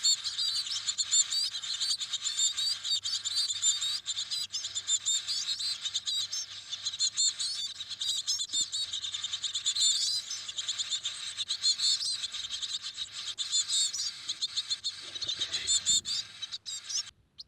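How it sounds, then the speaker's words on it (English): Small birds at a coal tit nest in a house wall give continuous thin, high chirps and peeping calls, fairly close and steady throughout, with faint low background noise. "it's called coal tit. This is a small bird from the tit family."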